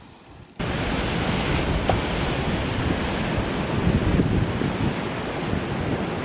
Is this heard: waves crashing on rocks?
yes